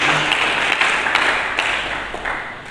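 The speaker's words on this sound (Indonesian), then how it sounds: "Mari kita berikan tepuk tangan yang meriah bagi Yesus." A church congregation claps for Jesus during a sermon, a full, loud burst of applause with a few sharper claps standing out, fading slightly by the end.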